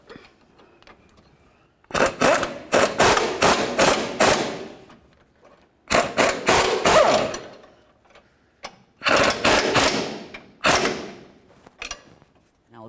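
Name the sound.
tightening nuts on a Chevy Silverado idler arm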